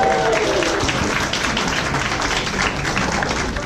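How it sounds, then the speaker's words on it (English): A crowd at a naturalization oath ceremony claps and cheers in a dense, steady burst, loud and close throughout, with no clear speech over it. "When these people stand up, they expect you to cheer."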